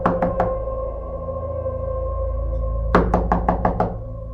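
Knocks on a house door, loud and close: three quick raps at the start, a pause with low background hum, then a second burst of five or six sharp knocks.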